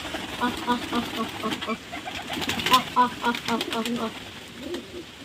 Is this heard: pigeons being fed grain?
yes